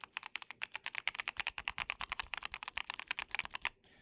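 Fast, steady typing on a Keychron Q6 Max keyboard fitted with Gateron Oil King V2 switches, with dense, even key clacks close up over about four seconds before the keys stop.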